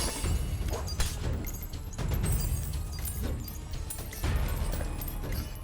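Heavy crashing impacts and rumbling blasts from the temple guardian boss in Phantom Abyss come in bursts every couple of seconds, loud and close, like something large smashing its way nearer.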